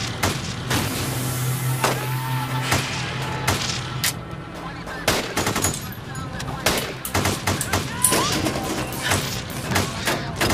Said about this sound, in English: They're just shooting hundreds of rounds.